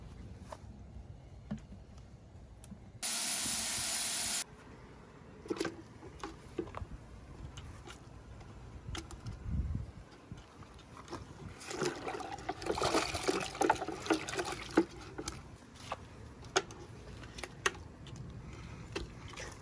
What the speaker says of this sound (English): Then I think I'm gonna try to lay them out on the pavement and just pressure wash them.